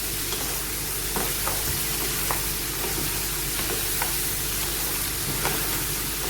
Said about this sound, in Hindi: प्याज भी साथ ही भिंडी के हमारे बहुत अच्छे से फ्राई हो जाएंगे।